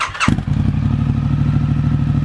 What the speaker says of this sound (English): This is the Triumph Scrambler 900's factory exhaust.